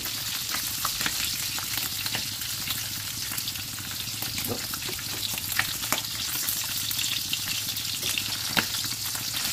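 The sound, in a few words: milkfish (bangus) frying and popping in oil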